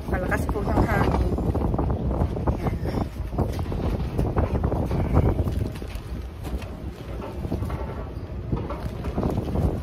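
Strong wind blasts into the microphone outdoors while planting spinach, a loud rumbling, gusting roar that runs throughout, with faint speech mixed in.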